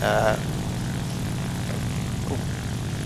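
Propeller engine of a La-5 fighter plane flying at low altitude in War Thunder, a steady droning roar that runs throughout, with a brief louder burst at the start.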